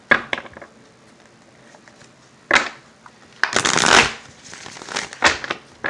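Tarot cards are handled and shuffled with scattered soft flicks and taps, then a loud riffle burst near the middle and further crisp card slaps toward the end, close by.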